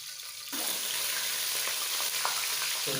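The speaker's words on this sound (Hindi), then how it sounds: "उसके बाद पोटों को पहले जो है अच्छी तरह फ्राई करना है।" Hot ghee for a chicken gizzard dish erupts into a loud, steady frying sizzle as food goes into the pan after a quieter half second. Faint stirring sounds come through, with no speech.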